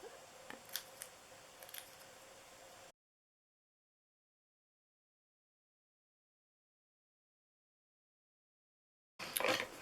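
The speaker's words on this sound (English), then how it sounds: "I'm using my little snips to cut the grass" Small snips cutting paper grass for an Easter treat holder craft, a few crisp close snipping clicks at the start, then silence before another brief burst of snips at the end.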